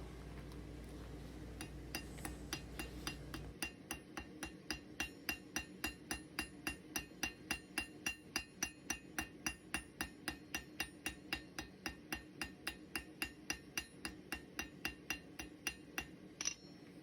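Blacksmith hammering a bar on an anvil, rounding it from octagon to round: a steady run of some thirty sharp, ringing metallic blows at an even pace, close and loud, after a few seconds of low roaring forge noise.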